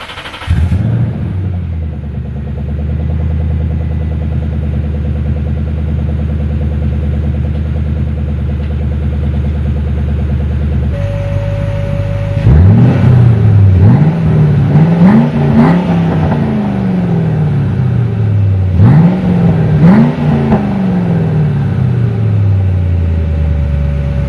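A 1998 Mustang Cobra fitted with Flowmaster Outlaw dumps cranks, settles into a loud, deep idle, then revs hard in several rising and falling bursts, close up and alone.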